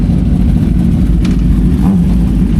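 A Kawasaki ZX-10RR sport motorcycle near a Caltex station off SLEX southbound runs in a loud, steady engine drone that fills the whole stretch, with a brief rise in revs partway through among roadside traffic noise.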